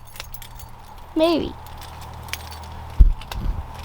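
Keys jangle and clink near the mic while someone prepares to start an old van that has sat for months, with a brief spoken word and a sharp metallic knock.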